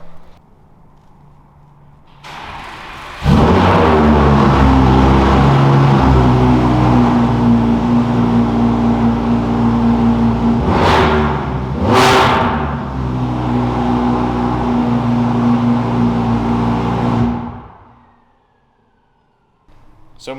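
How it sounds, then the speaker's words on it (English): A 2017 Vorsteiner Audi R8 Quattro cold-starts with a starter whir, then a loud, sharp flare of revs that settles into a high, steady idle. Two quick throttle blips rise mid-way before the engine shuts off into silence. "Now, how about a cold start?"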